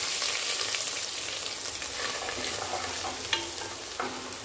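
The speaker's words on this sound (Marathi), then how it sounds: "आता हे गॅस कमी करायचा आणि हे वाटण टाकून घेऊया। वाटण छान भाजून घ्यायचं बरं, कमी गॅसवर।" Coconut masala paste roasting in oil in a pan over low heat gives a steady, close sizzle with light stirring scrapes and a couple of small clinks, and no one speaks.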